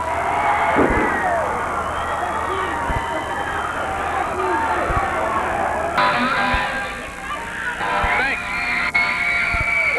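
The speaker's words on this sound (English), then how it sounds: "Listen to that crowd, Steve." A wrestling arena crowd roars and cheers continuously after a top-rope splash, a dense, loud wash of voices with a commentator talking over it.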